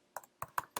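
Code typed on a computer keyboard, four crisp separate key clicks in under a second, close and quiet against a silent background.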